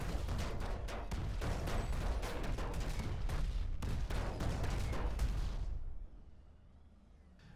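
Rapid bursts of flak fire pound a Reaver aircraft in Planetside 2, loud dense crackling explosions stacked close together for several seconds before cutting off to a quieter tail.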